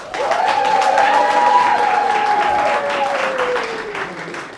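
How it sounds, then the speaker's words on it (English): Enthusiastic audience applause, a sustained even wash of many hands clapping with a few shouts and whoops on top, holding steady before easing off slightly at the end. "Applause for Cora's bio"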